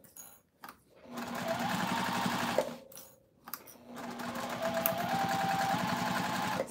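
A newer Singer domestic sewing machine stitches through fabric and foam in steady runs with a fast, even whirring hum. A brief pause breaks the runs, and the machine sounds close and moderately quiet.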